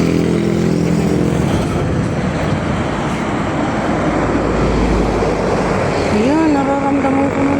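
A large truck or motorcycle crosses a bridge, its loud, continuous rumbling drone filling the scene, with a rising and falling whine and hum near the end as the vehicle passes close.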